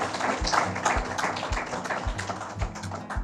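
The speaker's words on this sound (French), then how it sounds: "On applaudit la famille Ambec." A community evening crowd in La Broquerie applauds the Ambec family, with steady, fairly close clapping and rhythmic taps running throughout beneath low background music.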